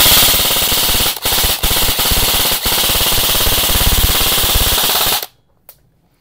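An E&C DDM4 airsoft rifle fires on full auto in long, loud, rapid bursts with a few brief pauses, close up, before stopping abruptly and leaving a single faint click.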